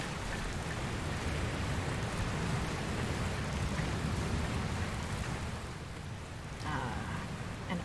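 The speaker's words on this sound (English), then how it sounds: "Where did this rain come from?" Rain falls in the video game Dragon Quest Builders 2 as a dense, steady hiss and patter that holds at an even loudness for the whole stretch, with no voices over it.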